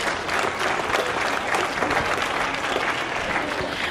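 Audience applause at a 4-H/FFA county fair swine show, a dense, steady roar of many hands clapping that holds evenly throughout at moderate distance.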